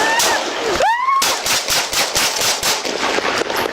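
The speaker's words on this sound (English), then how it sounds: "Shots fired, shots fired." Gunshots ring out during a confrontation between police and armed robbery suspects, a loud rapid burst of cracking shots over continuous shouting, with an officer's voice barking commands just before the firing.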